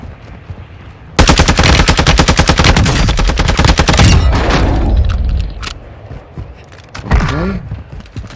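Loud, sustained automatic gunfire from a Warzone 2 battle, a long rapid burst of shots followed by scattered single blasts and a short later volley.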